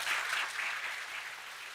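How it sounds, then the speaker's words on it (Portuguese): A church congregation at the Bom Jesus national sanctuary applauding steadily, a continuous wash of clapping that fades slightly toward the end. "Aplaudimos o nosso Deus."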